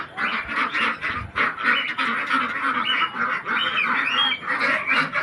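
A flock of ducks clamouring to be fed, a continuous loud chorus of overlapping quacks and honks close by, with no talk over it.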